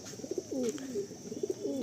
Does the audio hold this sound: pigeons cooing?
yes